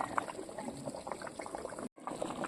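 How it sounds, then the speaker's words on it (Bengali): Meat curry broth bubbles steadily in a pot on a home stove, a dense, continuous simmering gurgle with small pops, close and fairly quiet, with a brief silent gap near the end. "ঝোলটাও খুব সুন্দর ফুটছে"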